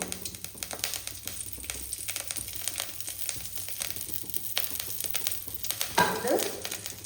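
Curry leaves and chillies frying in hot oil crackle as a dense run of quick, close pops and spits over a light sizzle, with a brief rustling burst near the end and no talk.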